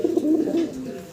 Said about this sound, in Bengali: গোল্লা কবুতর হইলো ডাক,